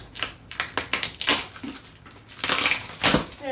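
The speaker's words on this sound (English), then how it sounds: "Let's cut this box open and see what we have inside." A cardboard meal-kit box for Every Plate pork sloppy joes is sliced open up close, with a run of short crisp scraping and tearing bursts followed by a longer, louder ripping stretch.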